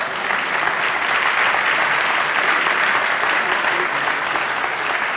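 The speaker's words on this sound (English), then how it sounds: "Give M&M a round of applause." An audience at a police commissioner's swearing-in ceremony in a middle school applauds two neighborhood beat officers, a steady, dense wash of clapping filling the room for several seconds with no break.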